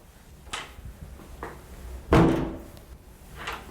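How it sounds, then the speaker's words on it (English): An interior door in a small shared micro-living apartment swings shut with a firm thunk, preceded by a few light handling knocks and a faint latch click, close and without voices. "That's the door that we close."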